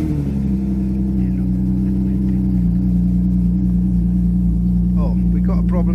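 Alfa Romeo GTV 916 with a 3.0 V6 24v engine running at a steady, loud, close idle with a deep, constant drone, just off a trailer and warning lights on; a faint voice appears near the end.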